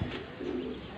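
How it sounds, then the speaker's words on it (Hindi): A large pigeon coos close by, a soft low throaty warble lasting about a second, with faint background noise. "ये देखें, ये देखें कितना बड़ा कबूतर है"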